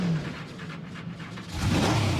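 A 9.7 litre blown, alcohol-injected big block Ford drag car engine rumbles loudly at close range, its deep idle swelling into a heavier roar near the end, with no talk over it.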